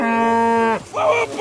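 A cow in the video game Kingdom Come Deliverance 2 gives a single loud, close moo that holds a steady tone and then breaks into a rougher, wavering second part.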